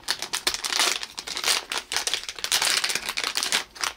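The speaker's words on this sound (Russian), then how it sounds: "Открываем маленький желтенький пакетик." A small yellow plastic packet from a Smashers monster truck toy pack is torn and opened, giving close, continuous crinkling and rustling plastic with quick tearing bursts throughout.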